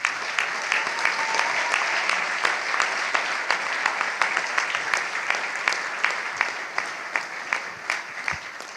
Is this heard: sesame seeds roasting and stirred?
no